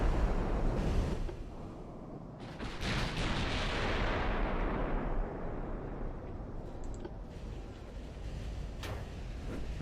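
Heavy naval guns fire in an Ultimate Admiral: Dreadnoughts battle between a dreadnought and modern cruisers, with deep rolling booms and a few sharper cracking blasts that swell and fade over a rumbling background.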